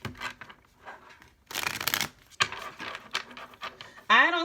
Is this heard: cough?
no